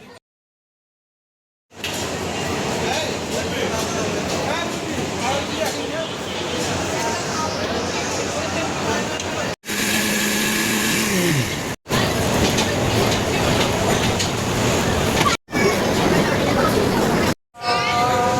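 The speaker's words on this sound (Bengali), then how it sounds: "আমি মেট্রো রেল দিয়ে যাবো আজকে বাসায়" A metro rail train at a station gives a steady, loud rumble and rattle, mixed with a murmur of crowd babble, broken by several abrupt cuts.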